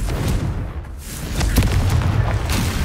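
A Confringo spell blast in Hogwarts Legacy, a booming fiery explosion with rumbling low-end bursts and crackling debris.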